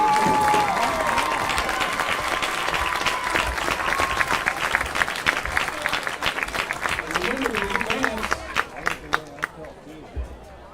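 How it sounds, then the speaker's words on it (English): Applause from a crowd in the stands at a varsity high school football game for nominees, loud and sustained clapping with chatter underneath, thinning out into scattered claps near the end. "Please give a round of applause to all of our nominees"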